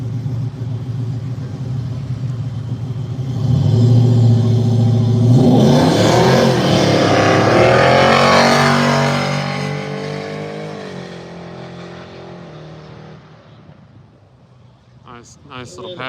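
Drag racing cars make a pass, engines swelling into a loud roaring rumble as they launch and race, then fading into the distance, with an announcer's voice heard over the noise.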